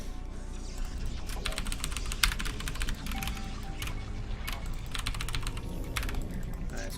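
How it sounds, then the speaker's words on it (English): Rapid typing on a computer keyboard, with steady clusters of close, crisp key clicks running throughout over a constant low background hum. "Oh man, I hear a keyboard going on."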